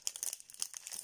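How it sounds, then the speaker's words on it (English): Pokémon trading card packs being cut open with scissors, their foil wrappers crinkling and snipping in several quick, close, fairly quiet bursts with no talk. "I'm ready just to get some scissors and cut the top of these."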